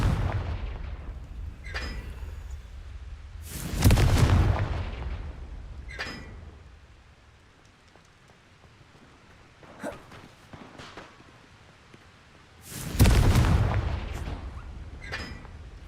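Confringo fire spell blasts in Hogwarts Legacy, two heavy booming bursts several seconds apart with smaller impact thumps and crackles between, no talking.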